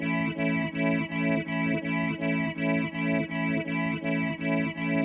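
A stereo delay pedal with its repeats cranked close to self-oscillation spills a dense, distorted guitar tone that pulses in even, rapid repeats, loud and steady throughout with no talking.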